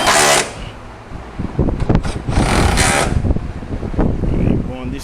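Power tool tightening 10mm bolts on the AC condenser of a 2014 Jeep Grand Cherokee, short loud mechanical whirring bursts with pauses between, close by, with a voice talking alongside.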